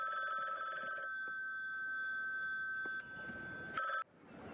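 A telephone rings in the video game The Bookwalker, a bright electronic ring repeating in steady pulses at moderate volume, cutting off abruptly near the end.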